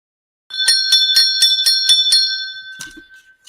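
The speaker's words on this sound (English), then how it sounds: "am I ringing that bell with purpose today for real" A bright hand bell rings close by in a quick run of about seven strikes, its ringing tone lingering and fading after the last one.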